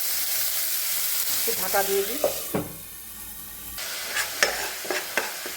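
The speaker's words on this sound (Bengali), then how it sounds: "এখন আমি এখানে পেঁয়াজ আর টমেটো বাটাটা দিয়ে অল্প ভেজে নেব" Onion and tomato paste fries in a pan for a green-banana kofta curry, a steady close sizzle broken by scraping stirs and a brief quieter stretch, with a voice speaking briefly.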